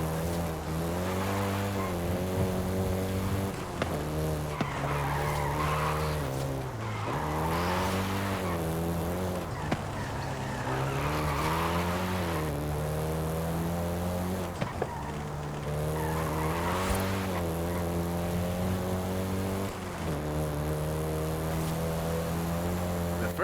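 Volkswagen Golf GTI driven hard in the racing game Forza Horizon 5, engine revving up and down through gear changes with repeated tire skids and squeals, loud and continuous.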